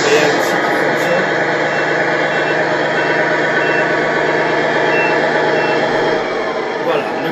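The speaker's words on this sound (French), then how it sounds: "vous voyez le camion avec la marche arrière aussi qui fonctionne" A Tamiya 1/14 Knight Hauler RC truck reverses with a steady electronic beeping and simulated engine sound, close and continuous, while someone talks.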